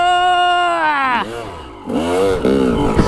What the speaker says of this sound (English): They're pulling a wheelie all the way up that for a minute